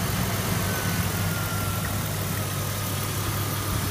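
A BMW engine idling with an air leak, a steady low rumbling drone with slight vibration, close and loud, running continuously with no talking.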